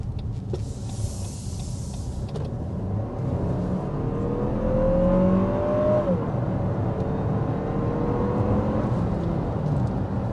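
An engine hums from inside a 2023 Lexus NX 350 SUV as it accelerates to 60 mph, a rising whine climbing steadily in pitch over a low rumble of road noise.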